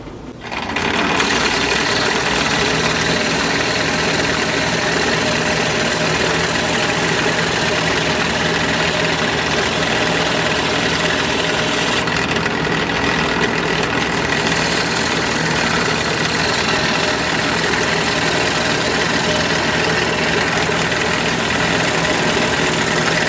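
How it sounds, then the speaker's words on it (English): A bench sander runs continuously for more than twenty seconds, a steady loud motor hum with a dense abrasive hiss. The tone shifts slightly partway through, as if a workpiece is pressed against it. "I like to use the bench sander"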